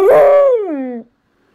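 A dog whimpers in one long drawn-out howling whine, loud and close, sliding down in pitch before stopping abruptly, with silence after.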